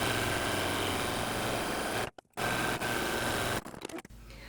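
Sewing machine running steadily with a stretch stitch along curved crotch seams of striped shorts, a continuous motor hum broken by a brief pause midway and stopping near the end.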